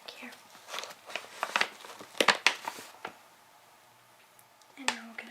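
Soft crinkling and crackling of a tea package being folded and set down, close and quiet in an ASMR tea tasting, in a few bursts with brief silences between.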